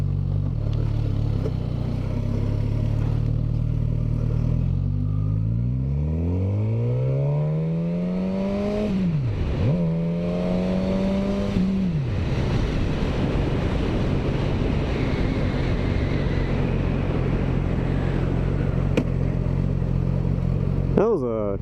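Suzuki GSX-S1000 motorcycle engine idling and shifting on the move in cold weather, with a steady low engine drone that rises and falls in pitch under strong wind rush. A voice talks over it.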